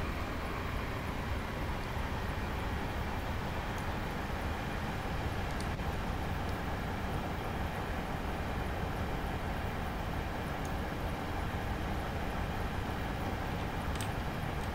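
A long passenger train runs along the North Wales coastal line in the Train Simulator 2018 video game, heard as a steady, faint broadband rumble with occasional small clicks.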